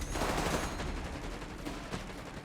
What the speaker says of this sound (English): Grenades are being chucked there, the Mark II frag grenade.